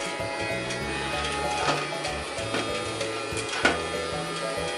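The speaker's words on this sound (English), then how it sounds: "As you can hear, it has some really cool, realistic vacuum cleaner noises." A Casdon toy Dyson Ball vacuum cleaner makes its play vacuum noises: a close, rhythmic mechanical whirring with repeated stepping tones and a few sharp clicks.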